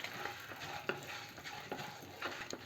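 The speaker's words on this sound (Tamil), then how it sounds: "ஒரு 5 வரமிளகாய், கொஞ்சமாக புளி எல்லாத்தையும் சேர்த்து நல்லா செவக்க வறுத்துக்கலாம்." Urad dal, dried red chillies and a little tamarind roasting in oil in a pan, a soft close sizzle with the scrape of stirring now and then, quiet and without talk.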